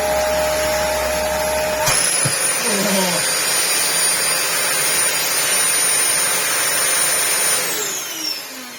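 A clogged Dyson DC25 vacuum cleaner runs with a loud, steady high-pitched whine and airy roar after a brief click and startup, the motor tone holding, then dropping slightly near the end.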